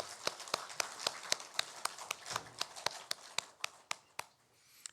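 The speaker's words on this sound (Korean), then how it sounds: "우리 하나님 앞에 우리 박수 영광 올려드리겠습니다." Church congregation at a Sunday worship service clapping together in a slow, regular unison beat, about four claps per second, sharp and fairly close, stopping abruptly near the end.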